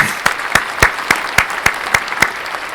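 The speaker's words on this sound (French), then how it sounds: "Bon, on va t'applaudir." A small group clapping on a French entertainment set after a hypnosis act, sharp rhythmic claps in a steady beat over a faint hiss of room noise.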